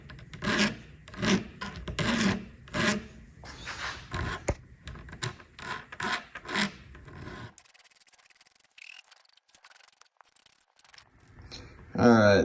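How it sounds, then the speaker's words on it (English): Hand file rasping chamfers on a CNC-machined aluminum brake caliper rotor adapter, a run of close rhythmic scraping strokes that stops about halfway through, leaving near silence and a brief clatter at the end. "finished filing up all the chamfers"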